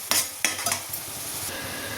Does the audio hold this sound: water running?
no